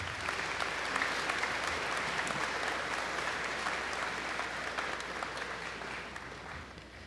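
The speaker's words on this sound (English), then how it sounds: "Round of applause for the band." Sustained applause from a graduation ceremony audience for the school's tech band, a dense steady clapping that holds strong for several seconds before tapering slightly at the end.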